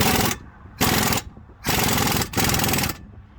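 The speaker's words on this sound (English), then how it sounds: "jacking it up so it's close to right height" A pneumatic or impact tool rattles in four loud, even bursts with short gaps, close by, while a Honda Civic EK is jacked up for a rear subframe and lower control arm install.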